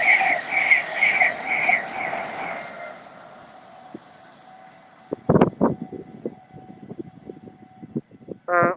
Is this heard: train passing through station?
yes